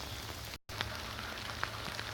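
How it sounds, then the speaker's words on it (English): Rainwater from a roof gutter pours through a hose into the soil around young cherry trees in Southern California, making a steady, close hiss of running and splashing water with a brief dropout and occasional drips. "here comes the water straight off the roof down into the soil around the trees."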